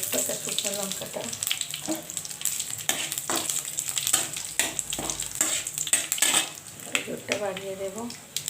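Panch phoron five-spice, bay leaf and dried chilli sizzle in hot oil for a spicy chorchori of shushni and kolmi greens with bori. The crackle is steady and close, with light utensil clinks and a voice heard briefly.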